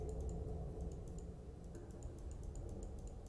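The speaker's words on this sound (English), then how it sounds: "So sorry, I'm clicking through this." Rapid mouse clicks sound while a computer adventure game is being played, a steady run of close, light ticks with no talk over them.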